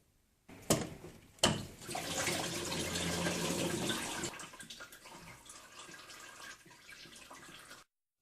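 Coolant drains from a car water pump into a drain pan, starting with a couple of knocks and then running as a steady splashing pour that gradually thins out before stopping.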